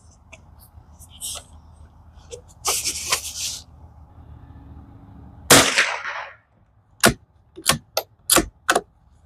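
Savage Mark II rifle fired during chronograph testing of Federal Automatch and Aguila Standard Velocity ammunition, outdoors: two sharp cracks early on, then a rapid run of five loud, close shots near the end.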